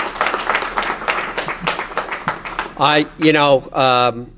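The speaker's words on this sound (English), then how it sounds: "How about a round of applause for both these people?" An audience claps for two speakers at a political gathering, a scattered run of close hand claps for a few seconds before a loud voice breaks in and takes over.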